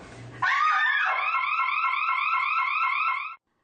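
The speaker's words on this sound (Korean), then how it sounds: "사이렌이 요란하게 울립니다." A brief scream sets off a smart safety alarm in an empty women's restroom, which answers with a loud electronic siren wailing in rapid, repeating warbles for about three seconds before cutting off.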